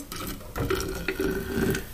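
Hot boiling water poured a little at a time into a dirty thermos before adding denture cleaning tablets, a steady close splashing and trickling pour that runs the whole time with a brief pause partway through.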